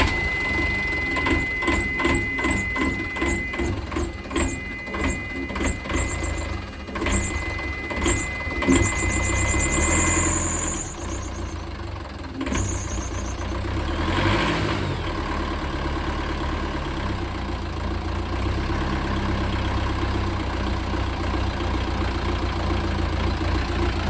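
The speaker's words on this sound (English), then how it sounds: "here's the noise that the engine's making" A faulty narrowboat engine runs close by, a steady low mechanical rumble with rhythmic knocking and a whining tone in the first half, then settling into a smoother, continuous idle.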